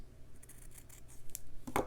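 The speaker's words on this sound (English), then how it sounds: "Just take my scissors," Scissors cutting fabric for slow stitching, a quiet close snip or two with a sharper crisp cut near the end, no talking.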